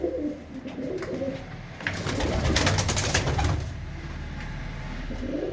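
Pigeons at a rooftop loft coo in a steady, fairly loud murmur, with a denser burst of rustling and calls in the middle before settling back.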